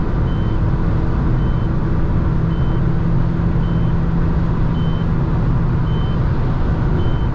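A 2008 Ford Focus sounds a fuel-related dashboard warning: a soft, high beep repeating roughly once a second, about seven times, over a steady, loud drone of engine and road noise inside the moving car.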